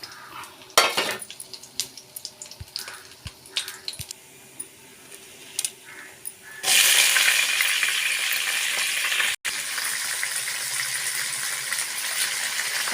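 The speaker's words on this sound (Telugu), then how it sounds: "ఆయిల్ వేడెక్కిన తర్వాత మినప్పప్పు, శనగపప్పు, ఆవాలు." Urad dal, chana dal and mustard seeds tossed into hot oil, a few sharp clinks and taps before a sudden strong, steady sizzle takes over, close and loud with a short break near the end.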